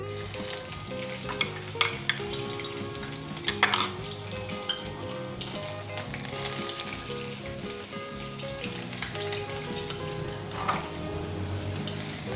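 Ginger garlic paste fries in about half a cup of vegetable oil in a kadai for an azeem murgh chicken dish, a long steady sizzle under intermittent stirring scrapes and metallic clinks of a spoon against the pan.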